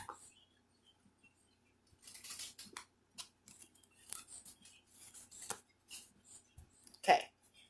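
A tarot card deck is cut and handled at close range, making quiet, intermittent papery flicks, slides and soft taps with near-silent gaps between them.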